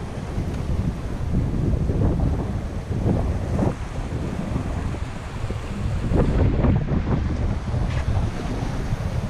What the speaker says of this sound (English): And the wind comes back.